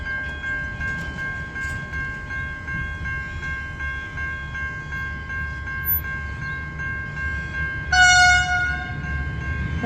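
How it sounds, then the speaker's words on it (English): V/Line VLocity train passing the Exford Road level crossing in Melton South, Victoria, with a steady rumble and a loud, sustained multi-tone horn blast near the end. "That's a loud horn."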